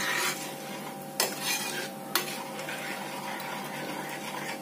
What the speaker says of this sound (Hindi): मैंने 4 टेबल स्पून शक्कर इसमें डाली है और इसको थोड़ी देर पकाएंगे।